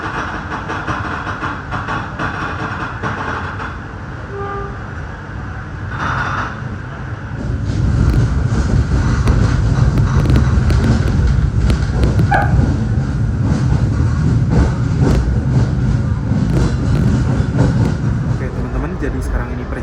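Sembrani executive train departing Gambir station in Jakarta, a steady low rumble that swells louder after a few seconds and holds, with a brief tone or horn early on, heard from on board.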